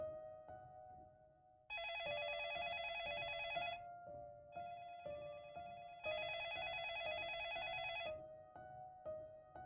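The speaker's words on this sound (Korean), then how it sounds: "곧 모든 전화기가 일제히 포효를 쏟아내었다" Several office telephones ring at once, with overlapping electronic bell trills that pulse in repeated bursts over a steady layered tone, faint and without any voices.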